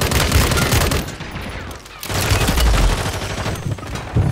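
Call of Duty gunfire on Rebirth Island, dense bursts of rapid shots and cracks layered close and loud throughout, with a brief lull midway before the firing resumes.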